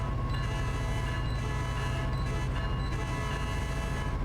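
A BNSF freight train rumbles past in the Train Sim World 5 game on the Metrolink San Bernardino route, a loud, steady low roar and clatter with a brief horn-like tone mixed in.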